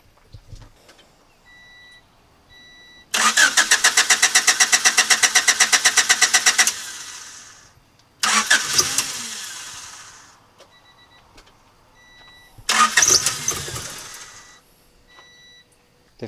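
A turbocharged Honda Civic D15B engine is cranked three times: a long rapid rattling crank, then two shorter bursts, each stopping without catching, with quiet pauses between.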